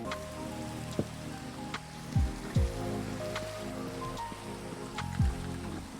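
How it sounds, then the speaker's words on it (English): Steady, gentle rain patters in Minecraft over faint ambient tones, with a few low thuds from in-game actions; there is no talking. "Oh no, it's raining."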